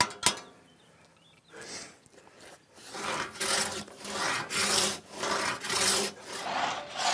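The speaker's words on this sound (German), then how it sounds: "Die Säge wird neu angesetzt. Das letzte Stück wird von außen durchgeschnitten." Craftsmen drive a hand saw through a wooden log on a sawhorse, the blade restarting after a few scattered scrapes and then settling into a steady rhythm of about five loud, close rasping strokes.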